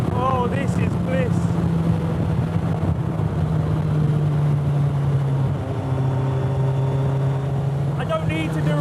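Suzuki Hayabusa motorcycle engine powering an MK Indy kart, a steady loud engine drone with sustained harmonic tones shifting slightly in pitch, over wind noise, with brief voices near the start and end.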